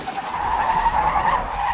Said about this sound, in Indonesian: tanpa disadari mobil mereka menabrak rusa yang melintas dan mereka pun berhenti